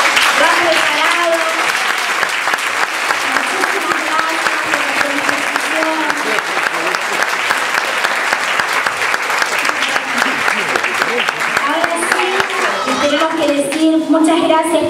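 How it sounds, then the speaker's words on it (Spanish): Sustained applause from an audience at a Mother's Day celebration, dense and loud throughout, with voices and cheers mixed into the clapping. "voy a pedir otro fuerte aplauso porque lo han preparado"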